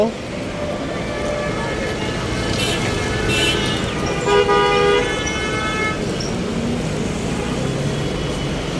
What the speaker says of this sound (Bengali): শত শত গাড়ি যাচ্ছে